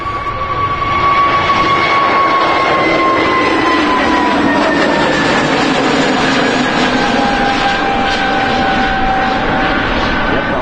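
An Airbus A320neo airliner passes at Amsterdam Schiphol Airport with a loud, sustained engine roar. Steady whining tones slowly fall in pitch across the pass.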